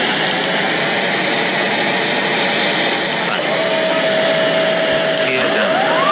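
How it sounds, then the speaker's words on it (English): A TAP Portugal Airbus A330-900neo lands at Newark, its jet engines a loud, steady roar close by, with a thin whining tone rising near the end. "TAP Portugal A330-900 Neo landing at Newark."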